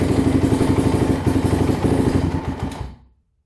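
A used motorcycle engine with a suspected carburetor problem runs with a loud, rough, pulsing putter close by, then dies abruptly into silence when the choke is turned off.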